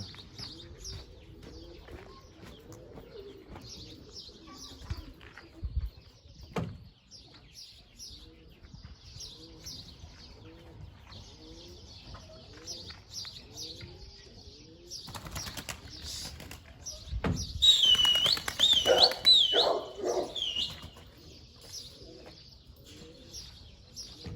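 Runaway pigeons coo in repeated low throaty phrases, with chirps and a loud burst of flapping wings near the end, close and clear against a quiet outdoor background.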